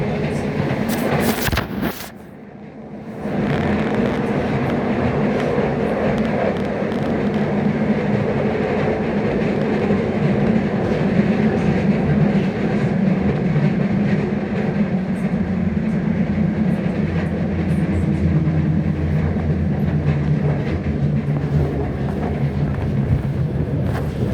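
A steady, loud rumble of a train rolling along rails, with a brief dip near the start before the continuous roar resumes.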